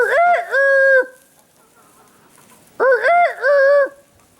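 Two nearby roosters crow loudly, one call after another with a short quiet gap between them, clear and close.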